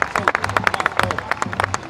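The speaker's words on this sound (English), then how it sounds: "The crowd's just gone wild because we've just seen Romalo come through." Spectators cheering and clapping at the 2018 ICF Canoe Marathon World Championships senior men's K1 race, a dense burst of rapid, uneven applause with some shouts, fairly close and loud.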